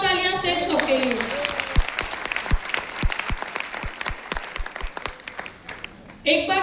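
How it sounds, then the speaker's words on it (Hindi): Loud audience applause at a Safe Shop business recognition event, starting as a dense crowd wash and then turning into strong, evenly spaced rhythmic claps, with a voice heard at the start and end. "एक बार जोरदार तालियां सेफ शॉप के लिए।"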